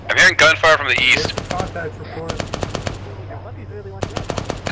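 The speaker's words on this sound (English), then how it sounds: "I'm hearing gunfire from the east." Rapid machine gun bursts from the Vietnam-era shooter ArmA 3 SOG ring out in a steady staccato train of cracks, moderately close, with a voice talking over the first second.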